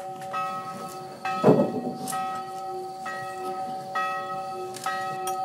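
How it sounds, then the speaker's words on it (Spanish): Church bells ring out in repeated, overlapping strikes that hang and resonate, with a louder clang near the start and fresh peals every second or so, alone without talk. "Toquen las campanas, tóquenlas más fuerte."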